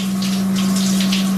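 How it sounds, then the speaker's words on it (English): Shower water runs steadily in a washroom at the ICN show day in 2017, a close, continuous hiss of spray with a constant low pump-like hum beneath it, no voices. "I'm gonna go for a shower."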